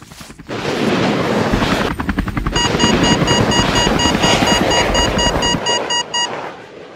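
Loud, steady helicopter rotor chop and engine whine close by, with rhythmic blade thumps throughout.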